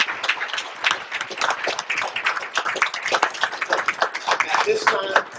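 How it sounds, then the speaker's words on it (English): A city commission meeting audience claps for a group of students, a dense, uneven patter of many hands at moderate distance, with scattered voices and a brief tonal chirp near the end. "So let's give them another round of applause."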